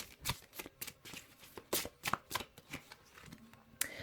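A deck of oracle cards being shuffled by hand, a quick irregular run of soft riffling slaps and papery flicks, close up and fairly quiet, with no talking.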